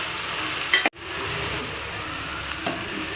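Bitter gourd pieces hiss and sizzle steadily in a hot pan with garlic paste, a continuous bright frying noise broken by a brief dropout near the start and a faint clink later.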